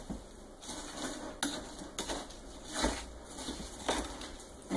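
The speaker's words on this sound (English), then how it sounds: "We're gonna mix all this up" Walnut bread dough ingredients are stirred with dark brown sugar in a bowl: a utensil knocks and scrapes against the bowl in a steady rhythm of clinks, close and moderately loud.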